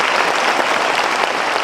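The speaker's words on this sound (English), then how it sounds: "Can we have a huge round of applause for General Chauhan" Loud, dense audience applause for General Anil Chauhan, India's Chief of Defence Staff, a steady roar of many hands clapping close up with no talk.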